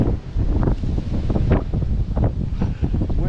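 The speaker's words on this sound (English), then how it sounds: "Windy out here." Wind blowing hard across a snowy mountain at Hunter Mountain during a spring snowstorm, a loud, continuous roar with gusty buffeting against the microphone.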